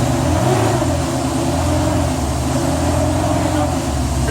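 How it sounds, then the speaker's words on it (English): A 1995 BMW E38 740i with its M60B40 V8 runs steadily after a timing tensioner replacement, a continuous close engine drone with a slight rise in revs, with faint talk underneath. "You want to rev it a bit? Can you give it a bit of gas?"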